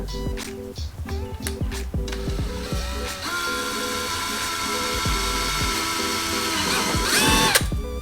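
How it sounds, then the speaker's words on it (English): A power drill boring a hole with a 5/32-inch bit whirs in short bursts and then runs steadily, close and fairly loud, ending in a brief high-pitched grind. "So let's go ahead and drill this hole."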